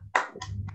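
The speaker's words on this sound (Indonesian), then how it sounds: "Oke, semuanya tepuk semangat." A class of students performs a short spirit clap together in a classroom, a quick cluster of claps with a brief follow-up, heard close with a low background hum.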